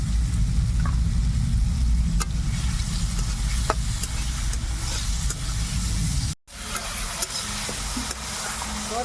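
Chopped tomatoes fry in an oily cooked-down spice paste, a steady dense sizzle with occasional spoon clicks and a brief dropout partway through, close and fairly loud, with no talk.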